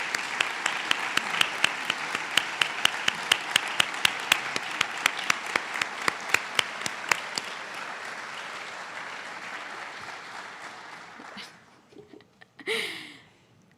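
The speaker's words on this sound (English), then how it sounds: "Let's give a big round of applause to the newest physician assistants" A ceremony audience applauds the newest class of physician assistants at a white coat ceremony, steady loud clapping with sharp individual claps for about eleven seconds, then fading out, followed by a brief murmur and a few scattered sounds.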